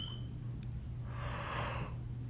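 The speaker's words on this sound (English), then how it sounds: "I'm sorry for basically yawning." A person yawns alone, a long breathy exhale that swells in the middle and then fades, close and quiet with a faint steady hum underneath.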